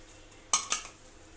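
A utensil mixing badusha dough in a bowl makes two quick, close clinks in succession against quiet background hiss.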